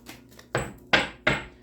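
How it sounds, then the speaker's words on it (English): A deck of tarot cards is shuffled in three quick, crisp bursts, each a short papery rush that fades, heard close and alone. "One shuffle for Sagittarius"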